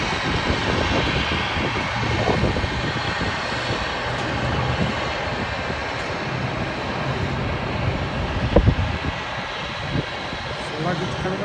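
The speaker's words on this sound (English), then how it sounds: "British Airways A319" Jet engines of a British Airways Airbus A319 drone continuously at London Heathrow, a broad, even roar with a faint voice now and then over it.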